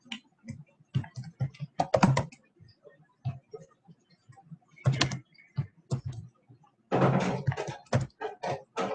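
Keystrokes on a computer keyboard during a Splunk software workshop, typed in quick uneven bursts of clicks with short pauses between, close and fairly clear, with no talking.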